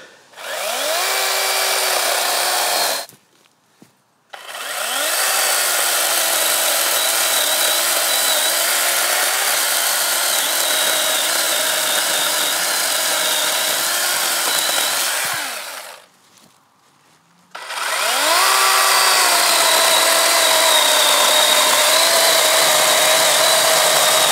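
A battery chainsaw whines steadily through pear wood in three long cuts, each ending with a short pause of near silence before the next begins.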